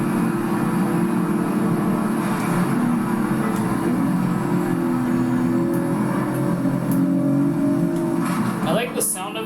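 Nissan Z Proto engine in the racing game Project Cars 3, a steady droning engine note held at constant loudness for the whole stretch, with faint tire noise.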